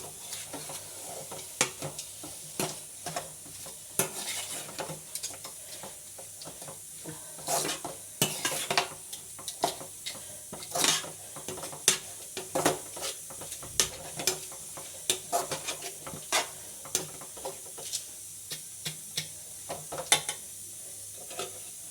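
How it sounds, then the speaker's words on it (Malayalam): Chicken pieces stirred and frying in a pan for a coconut rice dish, with steady sizzling broken by repeated close scrapes and clinks of a utensil against the pan throughout. "ചിക്കൻ ഇട്ട് ഇളക്കി യോജിപ്പിച്ചെടുക്കുക"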